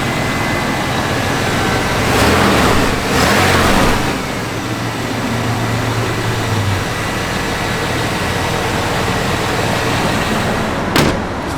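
A 1994 Chevrolet Silverado 1500 pickup engine idles steadily and close by, a low continuous rumble with a couple of brief swells and a short clunk near the end.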